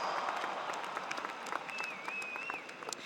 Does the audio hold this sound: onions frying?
no